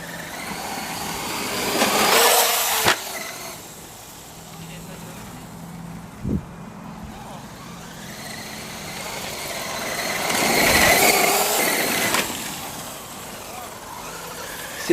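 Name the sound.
Traxxas radio-controlled car driving, engine revving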